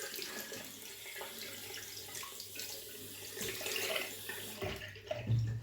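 Tap water runs steadily into a sink while shaving soap is being prepared, a soft continuous splashing stream that shifts slightly in tone toward the end.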